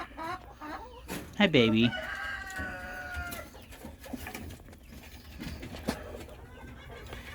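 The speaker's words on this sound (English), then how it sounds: "That's a silver-laced Wyandotte." A silver-laced Wyandotte chicken clucks close by with a short, loud burst of throaty calls, while a person talks softly nearby among the flock.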